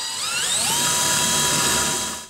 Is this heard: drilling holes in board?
yes